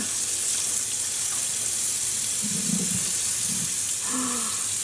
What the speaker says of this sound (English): we got filling up with clean water